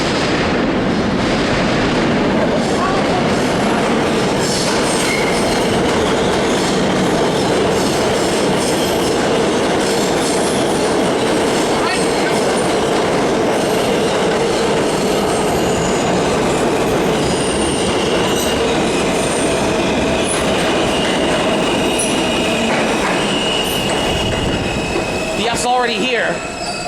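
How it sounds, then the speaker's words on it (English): A New York City subway E train roars loudly and continuously close by arriving at Queens Plaza station, wheels rumbling and clattering on the rails, with squealing toward the end as it slows to a stop. "here comes an E train"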